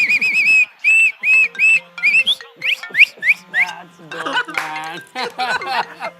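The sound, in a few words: referee whistle being blown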